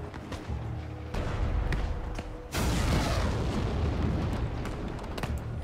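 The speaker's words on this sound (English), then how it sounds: "Watch for cannon fire." Cannon fire in the Shadow Tactics: Blades of the Shogun video game booms out as heavy explosive blasts, with a big loud burst midway that rumbles on amid continuous dense battle noise.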